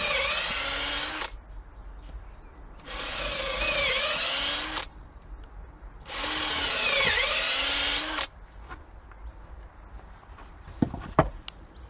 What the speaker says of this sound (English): I'm just drilling pallet hole here